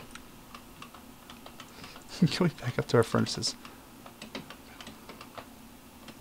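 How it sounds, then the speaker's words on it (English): Rapid typing on a computer keyboard while chatting in a Minecraft hardcore game, a dense burst of close key clicks in the middle with scattered taps before and after, while someone speaks briefly. "maybe I should stop typing in chat because it's wasting time"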